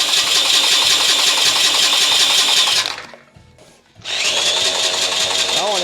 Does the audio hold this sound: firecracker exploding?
no